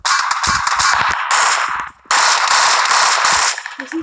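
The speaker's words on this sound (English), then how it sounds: "Is he shooting you or shooting someone?" Gunfire in the battle royale game PUBG, a loud, sustained burst of rapid automatic shots that cuts out for a moment, then resumes before trailing off.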